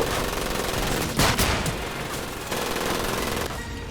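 Loud, sustained machine-gun fire in the video game Medal of Honor: Pacific Assault rattles almost nonstop, with a few heavier bursts and brief dips, and no talking over it.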